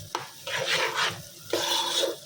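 Rice dry-frying in a pot for mung dal khichuri, with loud scraping stirring strokes in two rhythmic bursts over a light sizzle.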